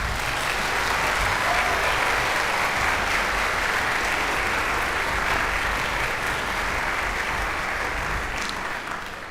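Sustained, dense applause from a concert audience for a harpist with the Keweenaw Symphony Orchestra, steady and full throughout and easing slightly at the very end.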